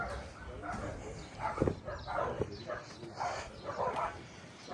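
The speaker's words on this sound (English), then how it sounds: "Dogs are going wild because they can hear people in Ginnell." Several dogs bark and yip excitedly in short bursts at moderate distance on a warm day outdoors, with a person talking over them.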